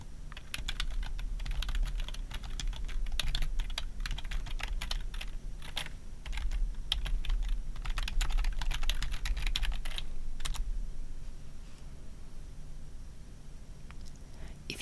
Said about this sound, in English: then type in the text and click Enter.